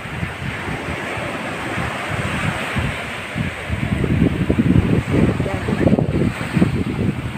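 Strong water rushes and churns steadily, a loud, close roar with gusting rumbles that swell toward the end.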